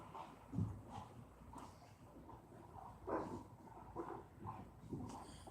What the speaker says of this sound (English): That's the neighbor's dog, not a hellhound.